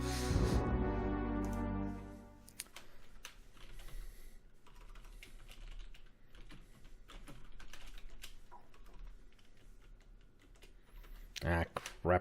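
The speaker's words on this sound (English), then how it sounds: "Using old school keyboard." Keys clatter on an old-school computer keyboard while playing the PC game Quest for Glory IV: Shadows of Darkness, a brief tonal sound giving way to scattered, irregular clicks and taps, close and fairly quiet.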